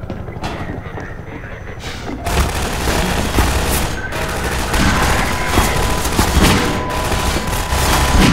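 Dense, continuous video-game gunfire and booming blasts from Half-Life 2, starting more sparsely and then turning into a loud, steady barrage for most of the clip.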